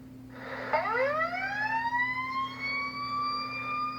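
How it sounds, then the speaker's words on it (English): A fire engine siren, Engine 16 leaving its station in Chicago, winds up from a low growl into a loud, sustained rising wail over a steady low engine hum. "As the truck rolls out of the station"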